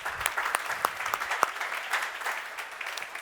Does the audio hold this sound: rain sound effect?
no